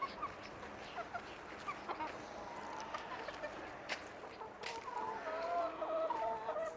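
Lohmann hens let out into a large garden after winter cluck softly and intermittently, with a few brief higher calls near the end over a quiet outdoor background.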